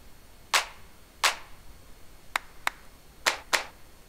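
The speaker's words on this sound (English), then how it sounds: "Let's audition some claps." Six crisp sampled hand claps auditioned one at a time in a TrackGod VST plugin within Logic Pro X, each sharp and isolated, spaced irregularly with short silences between.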